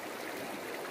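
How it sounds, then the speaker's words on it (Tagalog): Water rushes steadily in a strong river current, a broad continuous hiss heard close and alone for about a second. "Kasi yung current ng tubig ay malakas."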